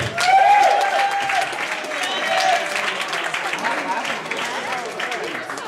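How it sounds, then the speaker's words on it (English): At a comedy club opening night, the crowd keeps clapping between comedians, loud at first and then thinning, while voices and cheers carry over the applause. "Please keep that round of applause going for the next columnist,"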